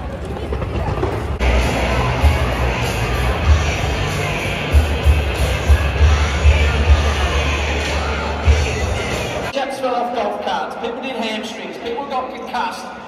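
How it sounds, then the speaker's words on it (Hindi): Dense crowd babble and hubbub from a huge mass of fans at an Ahmedabad stadium after the India vs Australia cricket final, steady and loud with a nearby voice talking over it. "पब्लिक ने भाई बहुत ज्यादा पब्लिक है।"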